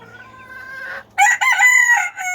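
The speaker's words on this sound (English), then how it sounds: "I hear you crowing." A pet rooster crows close by in a backyard flock, a loud full cock-a-doodle-doo that rises after a softer lead-in call.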